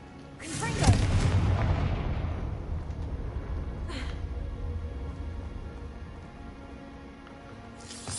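A Confringo blasting spell in Hogwarts Legacy goes off as a single loud boom, then a long rumbling decay with a faint sparkling shimmer afterward.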